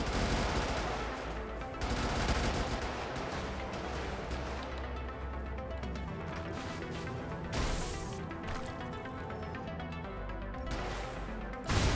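Dense, continuous chain gun fire from a vehicle in the video game Brigador, a steady rapid stream of shots with heavy booming impacts, loud and close throughout.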